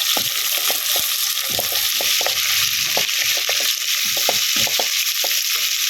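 Sliced onions go into a hot pan for beef bones and are stirred while frying, a steady loud sizzle running throughout with repeated scraping clicks of the spoon against the pan.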